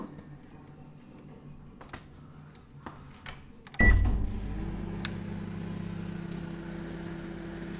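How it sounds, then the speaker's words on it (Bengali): A microwave oven heating mustard oil in a glass bowl: a few faint clicks and taps, then a loud thunk as it starts, followed by a steady low hum running on close by. "এটা মাইক্রোওভেনে আমি বসিয়ে দিলাম এটা আমি তিরিশ সেকেন্ডের জন্য দেব"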